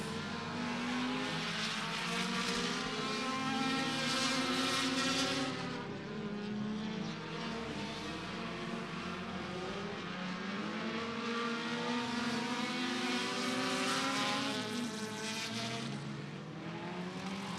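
Compact race cars running hot laps at Beckley Motor Speedway, several engines droning and revving together in a steady loud roar that swells and shifts as the cars circle the oval, with no talk.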